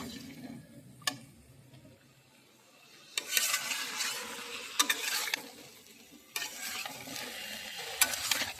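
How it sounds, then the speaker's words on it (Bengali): Spices and chopped vegetables being sautéed in a pan, with a soft steady sizzle, stirring scrapes and occasional sharp clicks of a utensil against the pan, fairly quiet and close. "এগুলো দিয়ে এবার মশলাটাকে ভালো করে কষাবো, আরও মশলা আর সবজিগুলোকে একটু কষিয়ে নেবো।"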